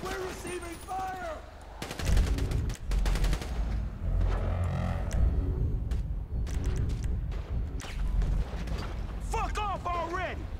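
Rapid gunfire bursts from a GTA V video game firefight, loud and dense with repeated volleys of shots, while voices shout over the shooting.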